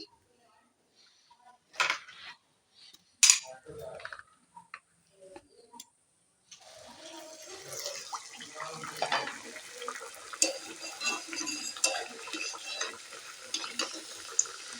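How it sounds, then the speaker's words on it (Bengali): Luchi sizzles in hot oil in a pan, opening with a few scattered clicks and taps, then settling into a steady crackling fizz that continues to the end. "লুচি আমি এক এক করে ভেজে নেব প্রথমে একটা দিয়ে নিয়েছি"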